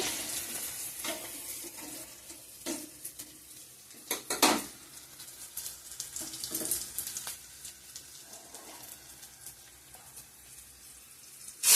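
Garlic, bay leaves, onion, chilli and whole cumin frying as a tempering in hot oil, a low sizzle beneath scattered clinks and scrapes of a spoon against the pan and several sharp utensil knocks.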